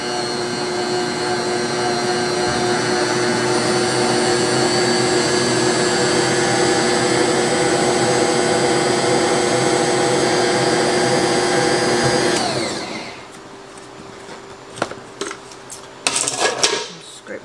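A stand mixer whips butter with powdered sugar in a loud, steady motor whir for about twelve seconds, then winds down, followed by a few clinks and knocks with some talk.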